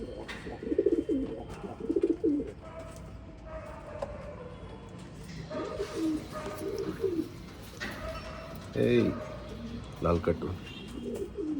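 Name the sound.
pigeons cooing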